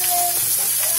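Head-on Jamaican pepper shrimp dropped into a hot pot of oil, bursting into a loud, close, continuous sizzle with crackling spatter across the brief moment.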